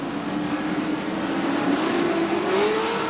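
A continuous engine drone with rising pitch as off-road race truck engines rev up during a Pro4 race at Chula Vista, loud and steady throughout, with no talking.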